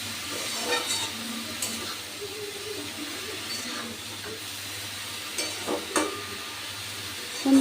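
Red amaranth leaves fry in a pan with a soft continuous sizzle, broken by scraping stirring strokes and a few light clinks from the utensil, fairly close and moderately quiet.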